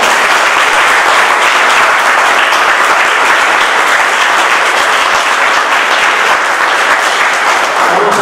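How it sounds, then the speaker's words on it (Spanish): Sustained, loud audience applause fills a hall at a retirees' and pensioners' center's 50th anniversary celebration, dense clapping holding steadily for several seconds without speech. "Un fuerte aplauso a la memoria de"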